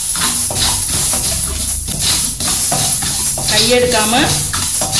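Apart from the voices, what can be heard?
fenugreek seeds dry-roasting and being stirred in a pan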